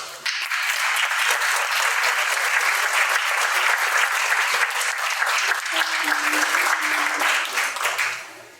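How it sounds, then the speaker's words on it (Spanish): Sustained applause from a conference audience welcoming a speaker, dense and loud throughout, fading out at the end, with no talking over it. "Demos la bienvenida con un fuerte aplauso."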